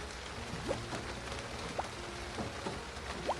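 Constant rainfall from a visual novel scene, a soft steady hiss with occasional brief drip or splash accents, no voices present.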